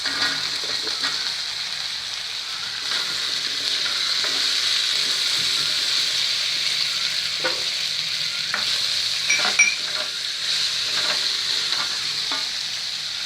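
Okra frying in a pan for a tangy okra curry, a steady loud sizzle with repeated scraping clicks of a spatula stirring throughout, no voices.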